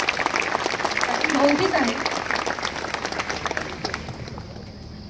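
A live audience claps at an outdoor Diwali-morning music concert, a moderate patter that swells and then thins out, heard under someone speaking into a microphone.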